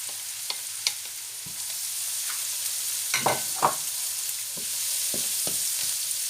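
Carrots go into a hot pan and sizzle steadily, with a bright constant hiss and several short scraping clicks of stirring scattered through, close and alone with no talking.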